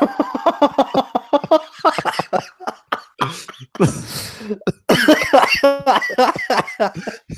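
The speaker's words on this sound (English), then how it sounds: "A bit of a cough" A single rough cough breaks up a stretch of ongoing talking, with speech continuing right after.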